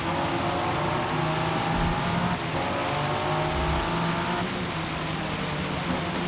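A Ford GT engine in the Forza Motorsport video game, driven in poor weather, roars loudly and continuously with gear-shift pitch changes and brief tire noise, no talk over it.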